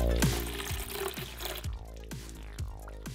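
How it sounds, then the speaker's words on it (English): Resin is poured into a 7-liter diorama inside a 50-year-old TV, giving repeated close liquid glugs and splashes with drips between them, and no voices. "So I'm drying up the water and then pouring more resin."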